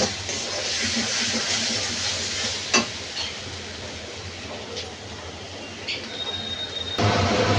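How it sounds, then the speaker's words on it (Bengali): Ground turmeric, coriander, cumin and chili powder fry in hot oil for a potato, pointed gourd and prawn curry, giving a steady, close sizzle with a few faint clinks from stirring. "এগুলো দিয়ে এবার ভালো করে কষিয়ে নেব মশলা।"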